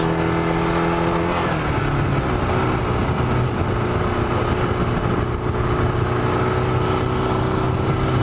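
A custom Yamaha XJ600 motorcycle being ridden produces a loud, continuous engine drone that shifts pitch once early on, then holds steady with wind rush and no talking.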